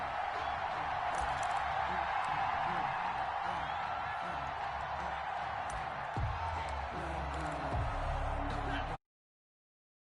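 Stadium crowd in a Madden football video game, a steady broad roar of distant spectators holding for about nine seconds before cutting off abruptly into silence.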